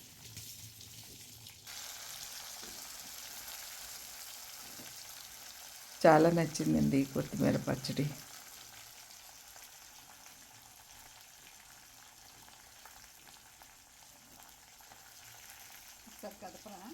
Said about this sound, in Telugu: తాలింపు బాగా వేగిపోయింది